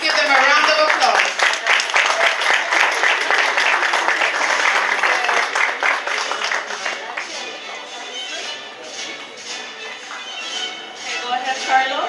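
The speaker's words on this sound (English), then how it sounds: "Let's give them a round of applause." Audience applause at the 2023 NCCU IMBA graduation ceremony: dense, sustained clapping from a large crowd fills the hall, strongest at the start and gradually thinning toward the end with scattered claps.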